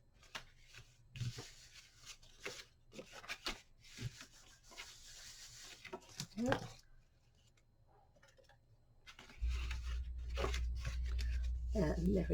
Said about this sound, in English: I can just remove the tape for the rest of it